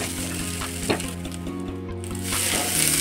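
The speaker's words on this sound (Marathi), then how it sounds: "आपण गॅसवर कढईत तेल टाकलेलं आहे, त्यात आपण ही गवार घालून घेणार आहोत" Cluster beans frying in oil in a kadai over a gas flame, a steady close sizzle with occasional pops and a low persistent hum, growing slightly louder toward the end.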